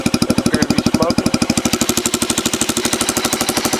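A Yamaha TTR 90 dirt bike engine runs loud through an exhaust pipe with holes drilled in it, a rapid, even, close-up putter with sharp repeating pulses.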